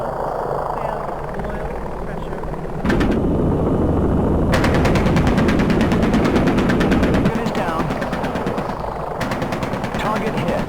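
Rapid, rattling chain gun fire in the helicopter combat simulator Enemy Engaged: Comanche vs Hokum, bursting in over a steady mechanical drone and continuing in dense sustained volleys.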